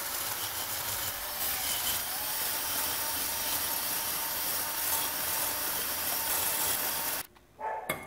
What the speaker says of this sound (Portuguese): eu não tenho uma batedeira, mas eu me viro bem com essa furadeira bateria aqui